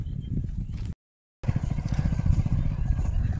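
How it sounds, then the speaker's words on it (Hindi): A Hero Splendor motorcycle rides off-road through a farm field, its small engine a steady rough chugging rumble with clatter, broken by a brief dropout, then continuing close and loud. "खेत में ऑफ रोडिंग हो रहा है स्प्लेंडर से ऑफ रोडिंग"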